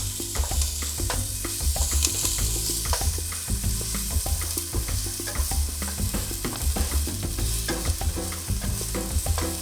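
Onion sautés in hot oil in a pan, giving a loud, continuous sizzle and crackle with the scrape and clatter of stirring throughout, and no voices.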